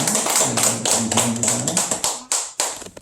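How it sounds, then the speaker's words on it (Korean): A church congregation claps together during a Sunday service, a dense, steady burst of applause lasting a few seconds before thinning into a few scattered final claps. "우리 박수로 하나님께 영광 드립니다"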